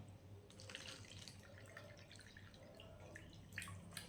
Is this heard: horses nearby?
no